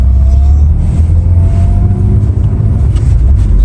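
A BMW 528i Alpina engine rumbles loud and close throughout, a steady deep idle with slight swells of revving and no speech over it.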